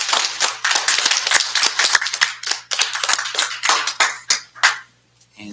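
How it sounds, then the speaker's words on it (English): A small audience at a school board of education meeting claps in sharp, uneven, separate hand claps, fairly close and loud, thinning out and stopping near the end. "can you please give them a round of applause?"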